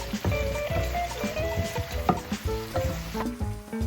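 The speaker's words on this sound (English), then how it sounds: "we're gonna continue sauteing this until the garlic is golden brown" Garlic sautéing in oil sizzles steadily and fairly loudly while a utensil stirs it, with scraping and clinking spread through the sizzle. Faint music plays beneath.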